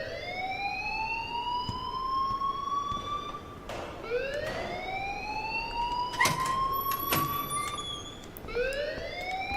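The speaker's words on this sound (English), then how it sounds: "please turn off that alarm since that's your job" School alarm blaring in the video game Life is Strange, a loud rising wail that repeats in long cycles, with a few sharp knocks and clatters in between.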